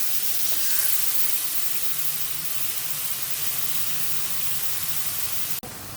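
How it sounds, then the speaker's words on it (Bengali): Fish being sautéed in a pan for a cauliflower curry gives a loud, steady sizzling hiss that continues unbroken for several seconds, then drops abruptly near the end, with no voices. "কষায় নেব।"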